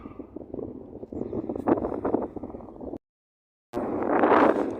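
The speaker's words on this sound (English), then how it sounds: "It's very windy today when you come up high anyway." Strong wind gusting across exposed high ground beside a pool on a former coal-working nature reserve, a loud rushing roar buffeting the microphone, cutting out briefly before surging back even stronger.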